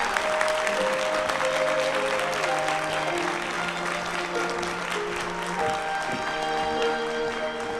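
Wedding guests at a convention hall applaud steadily as the couple's parents walk in, a dense, even wash of clapping with faint sustained tones from background music beneath.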